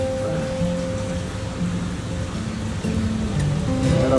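Steady rain pours down continuously, a dense even hiss with a low hum running underneath.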